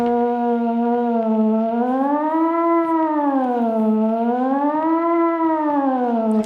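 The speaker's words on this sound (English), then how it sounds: "you can hear it sort of warble over time" A SOMA Rumble synth drones with a rich buzzy tone whose pitch slowly warbles up and down in a steady, repeating cycle, loud and sustained throughout with no speech.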